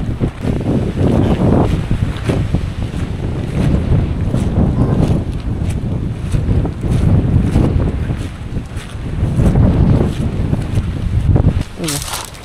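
Strong gusting wind buffets the microphone at Sulok Beach, General Nakar, a loud roaring rush with waves beneath and a voice speaking now and then.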